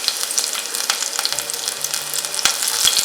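Fenugreek seeds, cumin and three chillies fry in hot oil for a Nepali bitter gourd pickle, giving a loud, steady close sizzle with crackling pops throughout and no talking.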